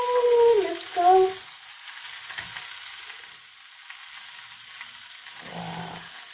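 French toast with cinnamon sizzles softly in a pan over lowered heat, a steady faint frying hiss that runs under a few brief clatters near the start.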